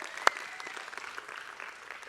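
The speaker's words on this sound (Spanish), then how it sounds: "Fuertes aplausos, por favor." A church congregation breaks into applause after a welcome for men back from a retreat camp, with one sharp clap standing out before a soft, diffuse patter of clapping that stays fairly quiet.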